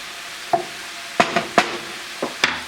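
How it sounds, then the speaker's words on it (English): Garlic stirred in a hot pan, with a soft continuous sizzle broken by about six sharp metallic clinks and scrapes of the utensil against the pan, spaced irregularly and close up. "I'm going to go ahead and throw the garlic in now. Stir that in."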